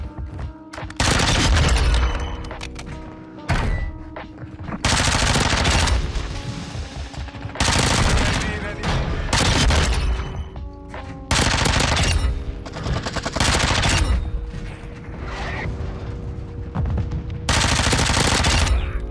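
Rapid automatic gunfire from a hidden weapon in the video game Modern Warfare 2 comes in repeated loud bursts of a few seconds each, separated by short pauses, close and dominant with no talking.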